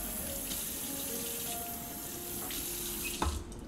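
Running tap water pours steadily into a kitchen sink while a steak is rinsed, a continuous close splashing stream with a few brief clunks near the end.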